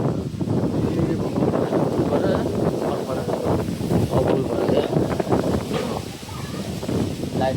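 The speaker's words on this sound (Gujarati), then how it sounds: "પવન એટલે મસ્ત આવે છે ઠંડો ઠંડો પવન" Steady cool wind gusting over an outdoor microphone, a broad rushing roar throughout with some leaf rustle, alongside faint voices.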